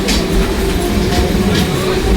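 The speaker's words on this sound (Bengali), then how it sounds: "ওদিকে আপ ট্রেন বেরিয়ে যাচ্ছে" An up train pulls out of Kakdwip station on a rainy day, its steady low rumble and rolling wheel noise filling the scene close by.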